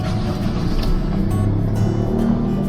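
The engine of a 2002 second-generation Honda CR-V runs with a steady, loud, low rumble, heard from inside the car, with no talking.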